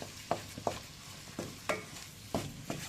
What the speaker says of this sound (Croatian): Evo polako, znači miješamo ovu halvu.